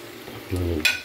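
Chicken deep frying in oil in a non-stick pan gives a steady close sizzle, with a brief scraping stir near the end.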